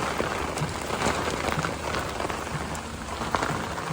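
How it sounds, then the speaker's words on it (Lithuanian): Rain falls steadily during a thunderstorm in Klaipėda, a dense continuous patter of drops on surfaces, close and even, with no thunder clearly standing out and no voices. "Dieną buvo karšta, o dabar čia ant galo lietus."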